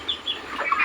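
A laying hen of the tiger breed gives a short burst of soft clucks, close by and brief, with faint rustling around it.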